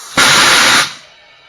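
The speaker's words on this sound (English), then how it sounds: "But we also have a bead blaster that is down below, firing air up into the tire to try and get some more air pressure in there." A tire bead blaster on a lab tire machine fires a single loud, sustained blast of compressed air into a tire from below, a broad roaring whoosh lasting about two-thirds of a second before cutting off and fading.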